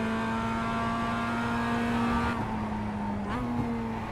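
A Mazda MX-5 Cup race car in iRacing drives the infield of the Charlotte Motor Speedway Roval. The engine holds a loud, steady high drone, then drops briefly as the driver shifts or brakes and picks up again.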